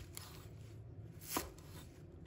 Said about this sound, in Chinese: 葱叶也切成小段